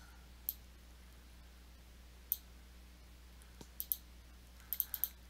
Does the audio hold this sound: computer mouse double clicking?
yes